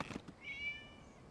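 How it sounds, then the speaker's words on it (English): A cat meows in the video game Genshin Impact, one short clear meow after a couple of brief knocks, fairly close and alone. "It was just a cat."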